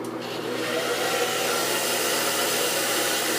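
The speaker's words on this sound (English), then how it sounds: "here's where the blow dryer comes in" A hair dryer roars steadily at high power, a continuous loud whooshing drone that holds constant throughout with no talking.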